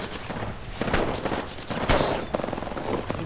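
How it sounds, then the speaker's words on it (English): Rapid gunfire crackles in bursts during an Apex Legends fight, several close volleys and shots overlapping across a few seconds, no talk. "they're still shooting down from above"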